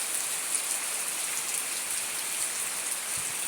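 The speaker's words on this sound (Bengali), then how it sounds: "দর্শক দেখতে পাচ্ছেন কি বৃষ্টি আর বৃষ্টি বলে বোঝাতে পারবো না" Heavy rain pours down in a dense, steady hiss, a constant wash of drops with no speech over it.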